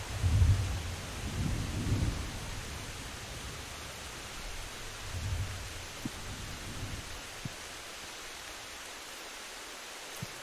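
Steady rain hisses throughout an ambience played during a tabletop game session, with low thunder rumbles rolling in early and midway and a few faint tapping ticks near the end.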